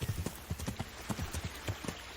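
A horse trots in the medieval video game Kingdom Come: Deliverance, its hooves sounding a quick, steady clip-clop rhythm close up, heard alone for a couple of seconds.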